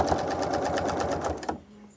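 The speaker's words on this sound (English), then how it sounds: "And for this quilt, I'm doing stitch in the ditch." Sewing machine stitching in the ditch along a quilt's seams, a rapid even run of needle strokes for about a second and a half before it stops abruptly.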